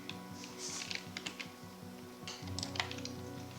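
Computer keyboard keys clack in quick irregular bursts during 3D modelling work in Blender, with a short pause in the middle before another brisk run of taps.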